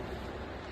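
Ocean surf at a Florida beach during skimboarding on a cold day, a continuous broadband wash of breaking waves with wind rushing across the microphone, steady and close throughout a brief moment.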